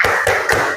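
A school class claps the rhythmic Indonesian 'tepuk semangat' cheer together in a teacher-training lesson in Malang: three sharp, close group claps in quick succession over a steady sustained background tone.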